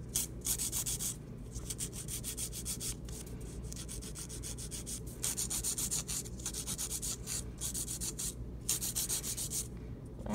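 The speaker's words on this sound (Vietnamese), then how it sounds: "các bạn thấy em mình đặt cái giũa vô lại, em mình giũa thôi" A nail file rasps steadily across an acrylic powder overlay on a real nail in quick repeated strokes. The gritty scraping is close and continuous with no talking.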